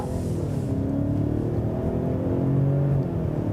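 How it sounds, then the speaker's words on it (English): A 2024 Ford Explorer ST-Line's engine hums and rises in pitch as it accelerates steadily, with road noise underneath and no talking. "I'm gonna hit the gas a little bit."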